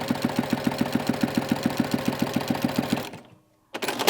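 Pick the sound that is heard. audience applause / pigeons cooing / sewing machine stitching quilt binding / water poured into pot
sewing machine stitching quilt binding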